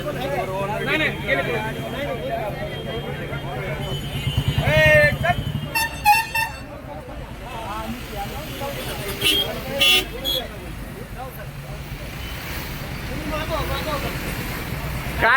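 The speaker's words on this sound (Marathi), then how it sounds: "या ठिकाणी पूर्ण ट्रॉफिक जाम होऊन गाड्यांची फार मोटी गर्दी दसून येत आहे" Vehicles stuck in a traffic jam on the Pune–Solapur highway after a car overturned, with repeated car and truck horns sounding near and far under busy talk and shouting from people on the road.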